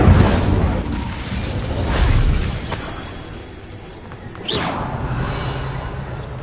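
An Incendio fire spell cast in the Hogwarts Legacy video game, a whooshing burst of flame with low boom-like rumbles that rise and fall, followed by a sharper crackling flare near the end, with no one speaking.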